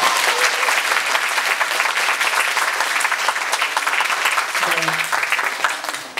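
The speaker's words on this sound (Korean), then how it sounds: "박수 한번 주세요." Theatre audience applauding during a post-show talk for the play M. Butterfly, a steady, dense wash of clapping that holds loud for several seconds and then begins to taper.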